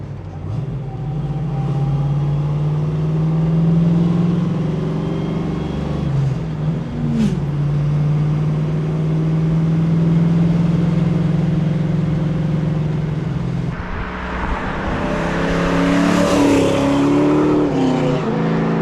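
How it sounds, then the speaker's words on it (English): A 1969 Ford Mustang Mach 1 with a 427 cubic inch Side Oiler V8 cruises at steady speed in fourth gear around 2200 rpm, a loud, continuous deep engine drone that swells briefly near the end. "now we're cruising 55 down in 4th at about 2200 RPMs, and she's good and happy."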